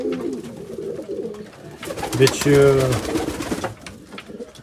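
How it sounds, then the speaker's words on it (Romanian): Some forty pigeons coo in an aviary, their low repeated calls swelling in the middle and layered with rustling, under someone talking close by. "acum am în volieră undeva la 40 și ceva de porumbei"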